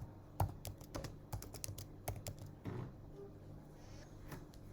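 Someone types a tag name on a computer keyboard, a quick, close run of crisp key clicks in uneven bursts, then a pause and a few final taps.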